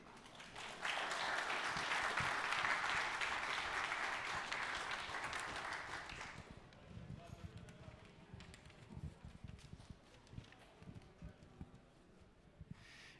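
Applause at a French football trophy ceremony for the Ligue 2 title in Troyes: a crowd's sustained clapping for about six seconds, then fading into scattered claps, footsteps and murmuring.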